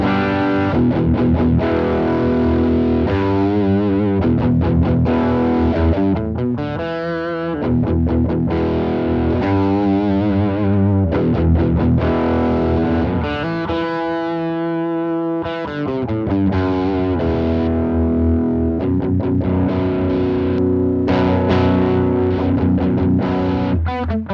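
A boosted, distorted electric guitar plays chords and riffs with gritty sustain, loud and continuous with brief gaps between phrases.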